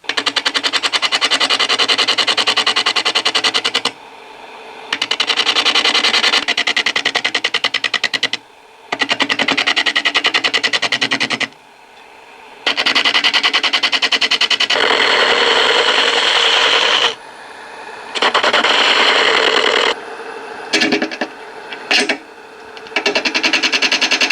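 A reverse-mounted wooden bowl blank spins on a wood lathe while a tool cuts it, making a loud, continuous rough hiss and rasp that stops and restarts several times, close up with no talk.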